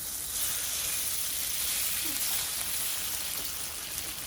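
Seasoned beef shallow frying in oil for chili crispy beef, a steady dense sizzle and hiss that holds even and close throughout, with no talk.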